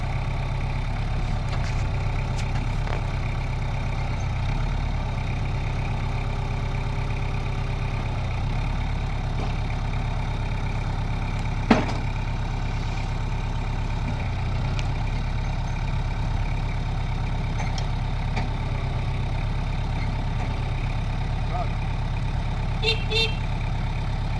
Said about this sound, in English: The next day, Andy plays with his new tractor.